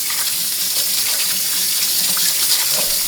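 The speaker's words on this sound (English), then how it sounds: "I'm just rinsing these with cold water so I can handle" Cold tap water runs steadily over boiled potatoes being rinsed in a kitchen sink while making aloo tuk, a loud, continuous gushing splash with no voices.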